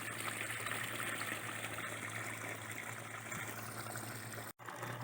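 Water flowing out of fish breeding tanks, a faint continuous gushing trickle under a steady low pump hum, unbroken apart from one brief dropout near the end.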